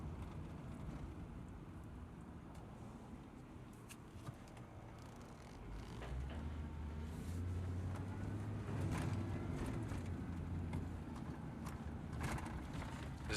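A car drives along with a steady, muffled road and engine rumble heard from inside, growing somewhat louder and heavier midway, with faint clicks and no talk.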